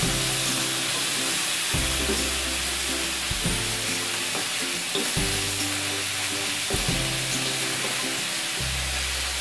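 Food sizzles loudly and steadily in a wok, with periodic stirring scrapes and clanks throughout and no talking.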